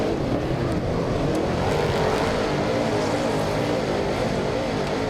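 A dirt-track speedway race car at Waikaraka Park roars steadily out of a turn, its engine a loud, continuous rasp as it accelerates, with no voices over it.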